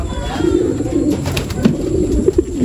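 Homing pigeons arriving at a loft, cooing softly in a close, repeated low burble with a few brief rustles.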